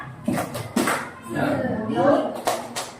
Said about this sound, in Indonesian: Kita mulai ya. Tepuk semangat.